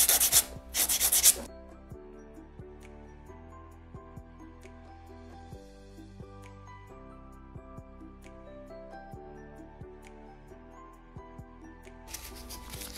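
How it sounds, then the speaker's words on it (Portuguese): A nail file rasps steadily across a fiberglass nail in rapid, close back-and-forth strokes, preceded by a brief louder scraping burst at the start and another at the end. "Vou lixar. Já vou acertar essa unha."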